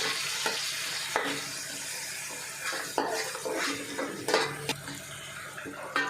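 Onion paste being stirred into a sizzling pan of Nellore-style fish pulusu gravy: a constant frying hiss broken by irregular scraping strokes and clinks of a spoon against the pan, close up and with no voices.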